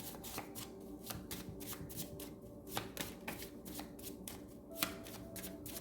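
Tarot cards are shuffled close up in a quiet room, with a steady run of soft riffling and slapping snaps, a few sharper card flicks standing out along the way.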